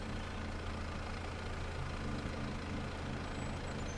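A tractor engine idles in a farming simulation game as a steady, dense low rumble that runs unbroken throughout, with no voices.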